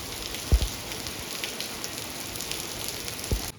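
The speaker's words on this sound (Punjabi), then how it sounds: "ਕੱਲ ਵੀ ਥੋੜਾ ਮੀਂਹ ਪਿਆ ਸੀ ਆ ਵੀ ਸਪੀਡ ਵੱਧਦੀ ਜਾਂਦੀ ਹੈ ਤੇਜ਼ ਹੋ ਰਿਹਾ ਹੁਣ ਤਾਂ" Heavy rain falls steadily in the countryside with a dense, even hiss, broken by a couple of brief knocks.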